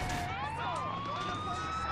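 Ambulance siren in the video game GTA 4, a continuous rising and falling electronic wail that sweeps steadily and loudly throughout.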